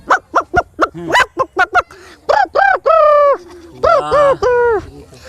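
A voice mimics a hen with quick clucks building into drawn-out cackling calls, loud and close, with no speech.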